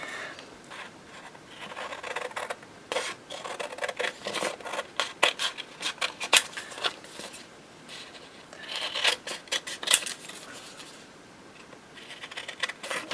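Scissors snipping around a cut-out of old book paper for a square pocket in a junk journal, with repeated close, crisp crunchy cuts and papery rustles in irregular bursts.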